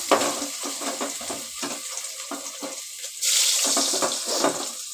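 Ginger garlic paste hits hot cooking oil and sizzles while being stirred, with a run of scraping clicks and then a sudden louder hiss partway through; close and clear, without talk.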